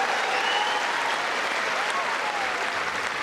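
Tennis crowd at the Eastbourne final applauding a successful line challenge, a dense, steady roar of clapping from a large audience, continuous throughout, with a commentator's voice faintly underneath.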